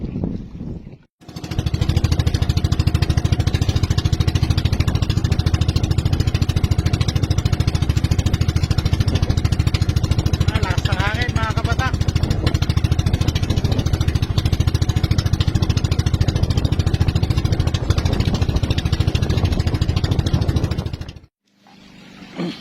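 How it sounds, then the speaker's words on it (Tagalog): A fishing outrigger boat engine in Batangas starts with a thump and then runs loud and steady, a continuous close chugging drone that holds for about twenty seconds before cutting out abruptly. "papandarin natin itong makina"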